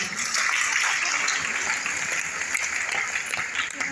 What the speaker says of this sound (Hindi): आदरणीय दिनेश सर के लिए एक बार जोरदार ताली बजाएं